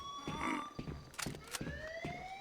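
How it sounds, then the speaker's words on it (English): A wailing siren-like alarm rises and falls steadily inside a Minecraft game, looping under a few short bursts of other game noise and faint voices. "Can I turn off the alarm in here?"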